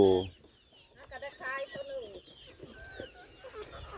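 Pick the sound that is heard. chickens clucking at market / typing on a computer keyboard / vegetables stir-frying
chickens clucking at market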